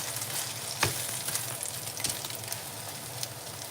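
Omelette with fermented pork sausage (naem) frying in a pan: steady crackling sizzle of hot oil, close and continuous, with a few sharper pops and stirring clicks, no voices.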